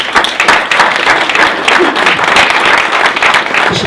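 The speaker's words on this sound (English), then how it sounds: "all those clubs deserve a massive round of applause as well" Loud, dense audience applause at a rugby league club press conference, continuous clapping with no gaps throughout the few seconds.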